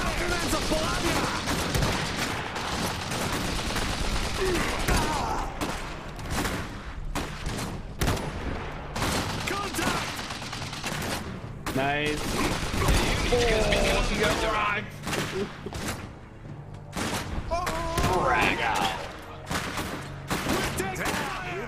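Machine gun fire in the mech strategy game Iron Harvest, dense rattling bursts and heavy gunfire layered with explosions, continuous and loud, with players talking over the battle.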